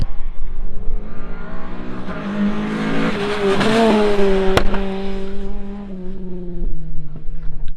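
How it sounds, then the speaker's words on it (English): A Ginetta GT5 race car on slick tyres roars loud and close on a kart track, revving higher as it accelerates, then easing back down through gear changes with a continuous throaty drone. "It's a Ginetta GT5 full-on race car running slicks, and this is what it sounds like."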